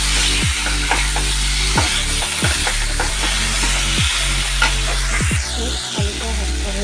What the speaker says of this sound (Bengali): আলুটা হালকা ভেজে নিয়েছি।